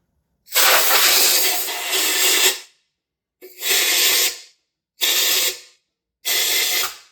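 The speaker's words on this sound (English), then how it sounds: "I'm going to hit this with some compressed air and just kind of blow out any dust or debris that may be left in the motor" Compressed air blasting dust and debris out of an engine block: a long loud hissing burst followed by three shorter bursts, each separated by brief silence, close up with no talk.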